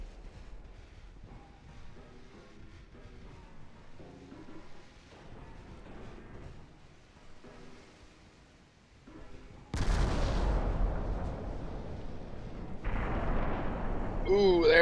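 Naval gunfire from warships in the Ultimate Admiral Dreadnoughts game, a sudden loud, broad boom after a quieter stretch of game sound, followed by a rumbling tail and a second heavy blast near the end.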